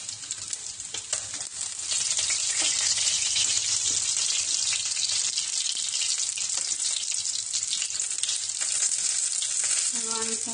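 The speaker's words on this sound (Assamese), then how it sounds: "ফ্ৰাই কৰি আছোঁ।" Food sizzles steadily in a pan for an Assamese elephant foot yam (suran) dish, a loud, dense, continuous frying hiss that swells after the first two seconds and holds to the end.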